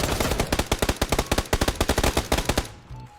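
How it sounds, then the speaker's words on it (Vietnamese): Rapid, loud bursts of automatic gunfire in a battle royale video game, dozens of sharp shots in a steady rhythm before fading out near the end. "vừa bị xả đạn bởi vị trí của Boy Siêu"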